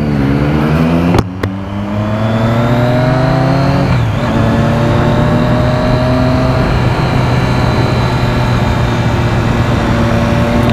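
Orange Kawasaki Z750 motorcycle engine running loud and close, with a steady revving drone and rising harmonic pitch, briefly dipping before settling into a sustained pass.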